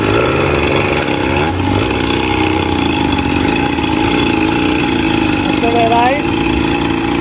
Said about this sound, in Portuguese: Aqui, ó, vamos ver o que vai dar aí.